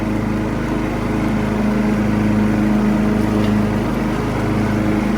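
Classic Husqvarna lawn mower engine running steadily and loud, an even droning hum with a strong low tone that holds without a break while mowing.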